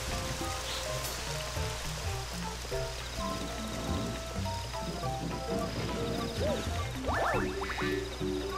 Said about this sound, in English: I almost get nailed by a rain cloud